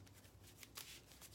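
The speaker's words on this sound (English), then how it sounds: "Shuffle the other two back in." A deck of playing cards being shuffled back together, a quiet, close riffle with soft flicking bursts over a second and a half.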